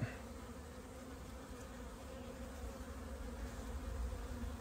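A thriving honeybee colony in an open hive with two supers hums steadily, a close, continuous drone of many bees with no voices over it.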